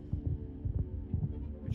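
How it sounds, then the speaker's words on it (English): Rhythmic thumping heartbeat in Minecraft, heard near the Warden mob in a dark underground area, a steady low throb pulsing under a humming ambience with no talk. "I can hear my heartbeat!"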